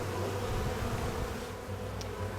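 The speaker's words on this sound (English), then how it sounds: "the bees are starting to lose patience. They are buzzing at my face" Honey bees swarm around a beehive flipped over by harsh winter winds, a dense, steady buzzing hum close by with no voices.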